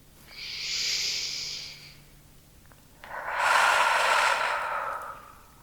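Slow, deep breathing during an evening stretching twist: one soft airy inhale followed, after a short pause, by a longer, fuller exhale, close and unhurried, with no talking.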